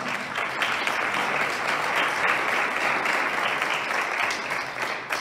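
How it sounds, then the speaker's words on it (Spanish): A church congregation clapping for the Lord during a service, a broad, even wash of many hands that holds steady for several seconds at moderate volume. "¿Cuánto le dan palmas al Señor?"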